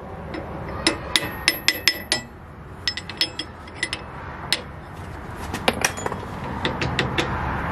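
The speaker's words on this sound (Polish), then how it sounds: "Muszę teraz delikatnie zbić." Hammer gently tapping a bearing into a wheel hub in a workshop, with a run of sharp metallic taps, a pause, then scattered lighter taps and a clustered burst near the end, close and clear with no talk.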